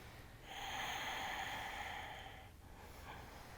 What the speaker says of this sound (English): Breathe your ujjayi and your bracing breath